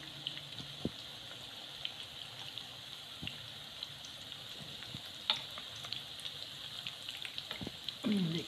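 Burger patty frying gently on a low flame, a faint, even sizzle with a few scattered small crackles, close but quiet throughout.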